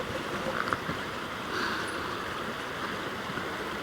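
River water flowing steadily with a continuous broadband rush, close and even throughout, with no talk over it.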